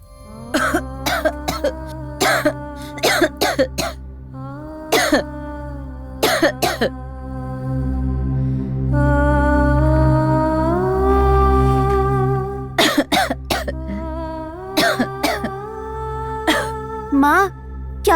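A woman coughs repeatedly in an indoor household scene, several sharp coughing bursts clustered at the start and end with a sustained music bed in the middle.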